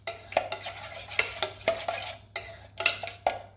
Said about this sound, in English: mix this lemon with this yogurt